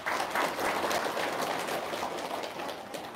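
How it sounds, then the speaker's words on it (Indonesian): Steady audience applause fills a lively gathering, dense and continuous clapping at moderate loudness that holds for the whole stretch without a break. "Tepuk tangan dong."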